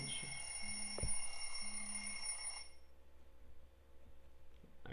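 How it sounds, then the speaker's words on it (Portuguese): An alarm clock rings in the background of a home recording, a steady high-pitched electronic tone that stops partway through, with quiet room noise and faint handling sounds around it. "tem até despertador tocando"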